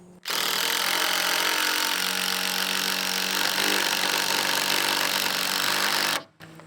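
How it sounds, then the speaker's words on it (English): A loud, steady impact driver whirs and grinds continuously for about six seconds, driving a screw into wood, then stops abruptly. "But here's the impact."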